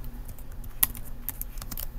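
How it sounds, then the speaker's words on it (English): Keystrokes tap on a computer keyboard in a quick, uneven run of clicks, with one sharper, louder press near the middle, heard close over a low steady hum. "let's just type in instead"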